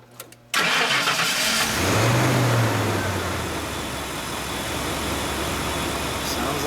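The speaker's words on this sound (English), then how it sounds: "Let's start her up." A 1941 Lincoln Continental Custom's vintage engine cranks briefly and catches, then settles into a steady, loud, close idle that carries to the end.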